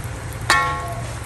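Carrot pieces dropped into hot oil give a sudden sizzling burst that fades quickly over a low steady background hum, brief and close.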